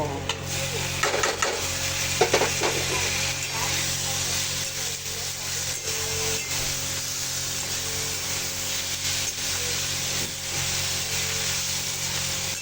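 Tomatoes tossed into freshly roasted masala for a hotel-style water chestnut (shingada) curry, with a steady close sizzle and frying hiss and the scrape of stirring running throughout.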